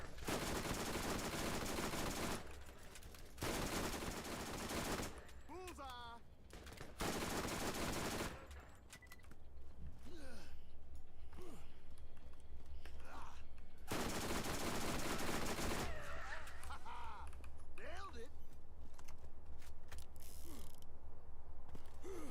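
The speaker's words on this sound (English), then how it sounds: "This SMG is very strong too." Submachine gun fire in a video game: long sustained bursts of rapid automatic shots dominate, broken by brief pauses and mechanical clicks, loud and close with game effects underneath.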